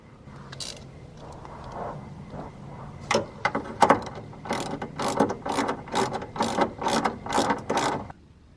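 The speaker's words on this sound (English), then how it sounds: "I've got all the bolts tightened now on the end links, as well as the brackets and the new bushers" A ratchet wrench clicks in quick repeated bursts while tightening bolts on a car's suspension end links, the pawl ticking loudly and close with short pauses between strokes.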